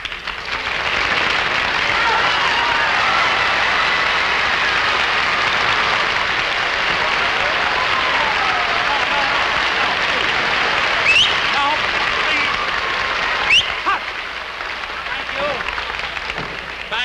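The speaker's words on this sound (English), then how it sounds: "Thank you for your very wonderful applause." Sustained studio audience applause at a 1949 live television variety show, a dense even wash of clapping that holds steady throughout, with a few sharper claps near the end.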